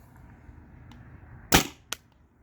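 Tippmann TPX paintball pistol fired on a 12 gram CO2 cartridge, one sharp close pop followed by a fainter second crack, against a quiet room background.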